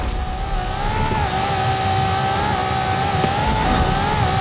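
A Lamborghini Murcielago engine in a racing video game holds a loud, steady high-pitched drone with a slight wavering pitch and a brief shift near the end, continuous and close with no voices.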